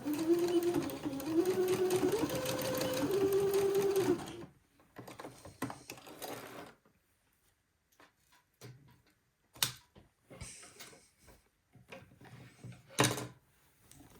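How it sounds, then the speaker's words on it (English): A sewing machine tacking elastic runs steadily for about four seconds with a whirring, rising-and-falling motor hum, then stops, followed by scattered soft clicks and handling noises. "come to the sewing machine and tack my elastic into place"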